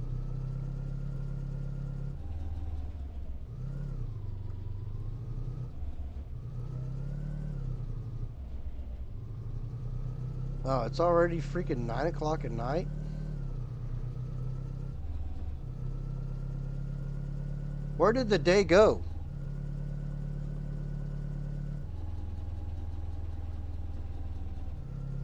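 A car engine in the game Ranch Simulator hums and revs steadily, its pitch rising and falling through the drive, fairly quiet and continuous, with a voice speaking briefly twice over it.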